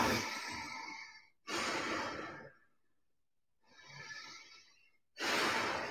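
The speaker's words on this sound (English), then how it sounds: "Couple of deep breaths." Slow, deep breaths are taken close to the mic during a gentle yoga wellbeing session: a few long inhales and sighing exhales with quiet gaps between them, and no talking.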